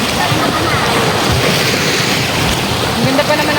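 Ocean surf breaking on a beach, a steady loud wash of waves with wind buffeting the microphone throughout.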